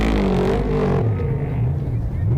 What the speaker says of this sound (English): where we're sitting, we can actually hear the truck